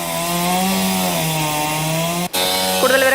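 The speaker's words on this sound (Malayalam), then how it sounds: "ആ മരം മുറിച്ചു മാറ്റാനുള്ള ശ്രമങ്ങളൊക്കെയാണ് നടക്കുന്നത്." A chainsaw cuts through a fallen tree blocking a road in Sultan Bathery, Wayanad, during heavy rain: a steady, droning engine whine that briefly cuts out, then revs back up toward the end.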